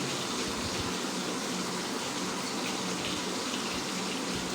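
A hot pan hisses into a loud, dense, continuous rush as jackfruit seed paste is poured in, the sizzle steady and close with no voices.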